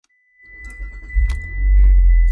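A car engine being started: a brief rattle and clunk, then the engine cranks and catches into a loud, steady low idle rumble close by.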